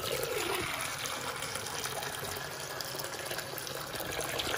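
Sparge water poured by jug into a HopCat 65L homebrew system for about 14 litres, a steady loud splashing gush running through the whole stretch with no talk over it.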